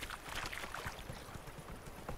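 Faint, steady clip-clop of a horse's hooves while riding in The Witcher 3, a quiet rhythmic patter under a wash of background game noise, with no talking.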